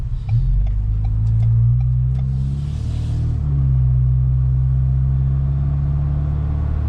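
Ford Bronco fitted with an AWE catback exhaust driving on the road, a steady low engine rumble with mild revving swells and road noise, continuous and close throughout with no talking.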